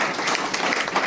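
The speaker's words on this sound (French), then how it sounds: "Est-ce qu'on peut applaudir très fort pour cette" Conference audience in Brussels applauding steadily, a dense wash of many hands clapping at even loudness throughout a short burst.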